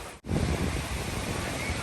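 Sea waves wash onto a white sand beach in Thailand, a steady broadband roar of surf with wind buffeting the microphone after a brief dip at the start, no voices.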